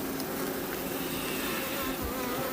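Honeybees buzz steadily over a hive frame of pollen covered with drones during the making of an artificial swarm, a close, continuous insect drone with no talk.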